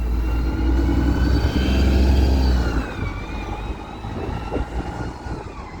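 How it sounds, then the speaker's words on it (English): A heavy bus engine rumbles loudly and steadily in Kingston upon Hull, its tone shifting as it revs down and idles with a low, rough drone. "The engine sounds good and fantastic on that bus."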